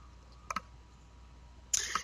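A few sharp, close keystrokes on a computer keyboard while a password is entered in a terminal: a quick double tap, a pause, then a short burst of clicks near the end, over a quiet room.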